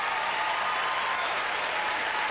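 Steady, dense applause from an arena crowd at a figure skating competition in Colorado Springs, a free dance event, filling the space evenly and continuously without speech.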